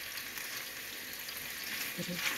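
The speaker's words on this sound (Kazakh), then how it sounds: "Табамызға бір ас қасық өсімдік майын және бір ас қасық сары май салып, табамызды қыздырып, және уақтап тұралған пиязымызды салып" Chopped onions fry in a heated pan with vegetable oil and butter, a steady hiss of sizzling throughout at moderate level with faint clinks near the end.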